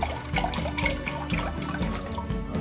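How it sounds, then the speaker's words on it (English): A cup of chicken broth pours in a steady, close liquid stream into a pressure cooker, running for a couple of seconds without pause. "I'll put a cup of chicken broth in"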